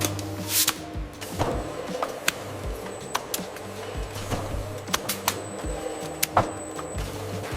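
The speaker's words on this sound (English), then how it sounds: "Laser printers etch the expiration date and batch number onto the cap." Laser printer marking expiration dates and batch codes onto ketchup bottle caps on a factory line, heard as rapid mechanical ticks and clicks over a steady machine hum, with sharper taps recurring irregularly.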